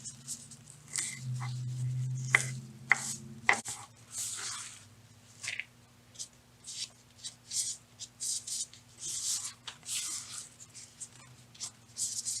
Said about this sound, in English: I'm just going to do somewhat of a rough chop